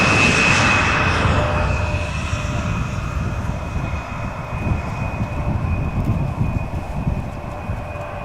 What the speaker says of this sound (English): the Embraer 190 that arrives is arriving from Bilbao